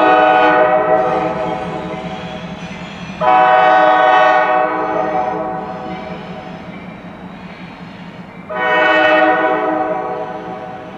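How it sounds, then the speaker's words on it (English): A multi-bell train horn sounding its bells together in a loud, sustained chord, with three long blasts that swell and fade into one another and no pause between them. "each of these bells put together and blown simultaneously sound the train horn that you're used to hearing"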